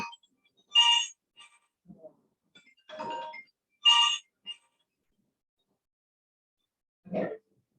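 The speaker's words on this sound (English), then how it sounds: "I'm going to take my iPhone up to the help desk because it's ringing through the help desk." An iPhone rings with repeated bright electronic chime bursts, spaced about three seconds apart, and a few faint scattered sounds fall in between.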